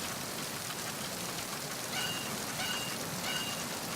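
Steady rain pours in Metal Gear Solid 2, a constant, even hiss of drops on surfaces with faint patters rising slightly now and then, no voices.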